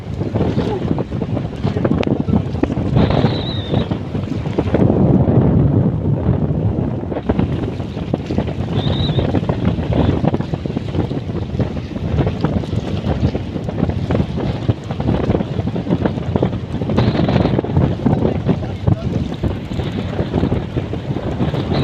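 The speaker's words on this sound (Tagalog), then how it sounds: "Ang lakas ng hangin." Strong wind buffets the microphone in loud, rumbling gusts over flooded rice fields, with water and a boat-like drone underneath and a few brief background sounds.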